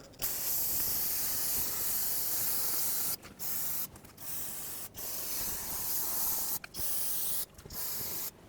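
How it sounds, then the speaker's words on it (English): Brake parts cleaner sprays onto the rear brakes of a 2008–2010 Ford F-250 pickup in loud, close hissing bursts: one long blast, then several shorter squirts with brief gaps between them, and no talking. "I'm going to clean everything with brake parts cleaner"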